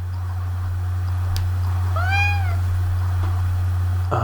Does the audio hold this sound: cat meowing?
yes